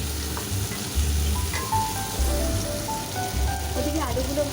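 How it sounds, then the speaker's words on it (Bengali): Potatoes frying in oil in a pan for a Bengali ol-alu-chingri dish, a continuous close sizzle with a few soft stirs and clinks, no talk. "ওদিকে আলুগুলো ভাজা হচ্ছে"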